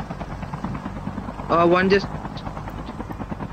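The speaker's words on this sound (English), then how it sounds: "There's a chopper coming, there's a chopper." In a battle royale video game, a chopper drones steadily under players talking over voice chat, with a louder pulsing rotor swell in the middle.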